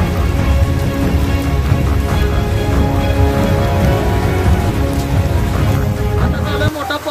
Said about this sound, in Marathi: आता झाला मोठा पाऊस